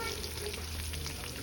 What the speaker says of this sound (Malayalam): നമ്മളിത് നെയ്യിൽ അണ്ടിപ്പരിപ്പ്, കിസ്മസ്, സവാള ഇതൊക്കെ വഴറ്റിയെടുത്തിട്ടുണ്ട്